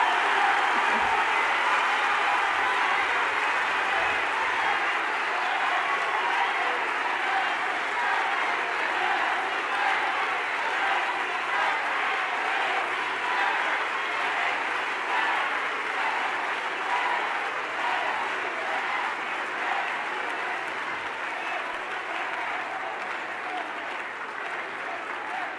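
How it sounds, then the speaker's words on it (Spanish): Loud, sustained applause from a large audience after a keynote lecture by Claudia Sheinbaum in Sinaloa, steady for the full length and easing slightly toward the end. "Que se escuche ese fuerte aplauso para la doctora Claudia Sheinbaum"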